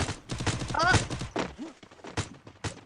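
Rapid bursts of gunfire with thuds in a John Wick video game, scattered through the clip beneath excited talking from a player.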